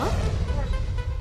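A cartoon puppy gives a quick, high bark in a Telugu animated series, nearly lost under a speaking voice.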